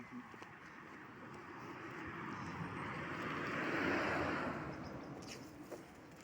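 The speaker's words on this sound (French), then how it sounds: "Une autre voiture, je crois." A vehicle approaches and passes by, its broad rushing noise swelling to a peak then fading, heard from a moderate distance outdoors.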